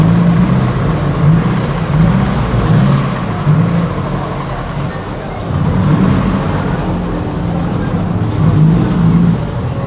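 A Porsche, seemingly a 991 GT3, rolls into an underground car meet in Osaka. Its low engine rumble swells and fades in slow, loud pulses against echoing ambient noise and background chatter.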